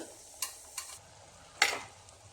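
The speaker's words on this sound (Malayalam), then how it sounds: "ഇടയ്ക്ക് അടപ്പൊന്ന് തുറന്നിട്ട് ഒന്ന് ഇളക്കി കൊടുക്കാം" Aviyal vegetables stirred in a lidded pan, giving three or four brief scraping, clattering strokes spaced over a couple of seconds, with a soft simmering hiss beneath.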